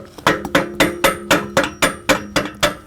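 Hammer striking a pipe fitting to release a log clamp: about ten sharp metallic blows in a steady, evenly spaced rhythm, loud and close with nothing else heard.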